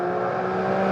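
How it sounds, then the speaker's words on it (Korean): A Mercedes-AMG C63 engine breathing through a performance exhaust system, a steady loud drone with strong low tonal hum and a slight rise in pitch toward the end, heard alone. "현재는 퍼포먼스 이 배기 시스템이 들어가면서 과합니다"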